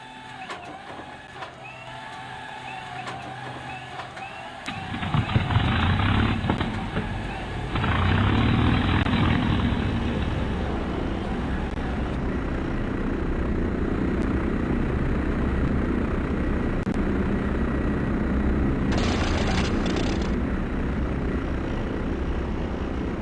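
Aircraft engine startup in the video game Arma 3, a Flying Legends mod plane: a quiet idle lead-in, then a loud coughing catch around five seconds that settles into a steady, droning engine run, alone without talk.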